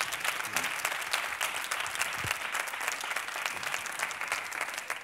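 A studio audience at a Spanish comedy show applauds a joke with steady, dense clapping that runs throughout at an even, fairly loud level.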